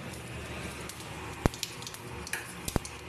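Cumin, dried chili, a small bay leaf and coconut frying in hot oil, a low steady sizzle with a couple of sharp utensil clinks against the pan.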